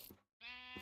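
A sheep in the Minecraft modpack RLCraft bleats in two short cries separated by a brief silence, the second one long and steady, with a synthetic game-like quality.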